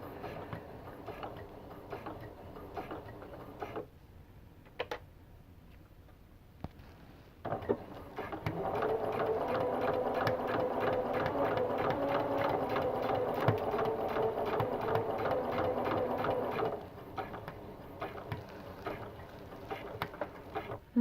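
Domestic sewing machine stitching hexagon quilt patches, a close steady run of rapid needle ticking and motor hum lasting about nine seconds, framed by quieter handling clicks and small pauses before and after.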